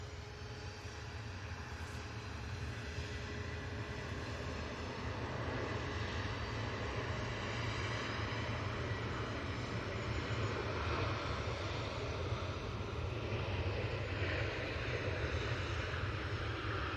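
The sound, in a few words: Jet2 Boeing 757 aircraft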